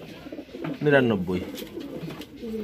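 A racing pigeon coos once in a short throaty burst, close by, set against a quiet room tone, with a voice speaking briefly.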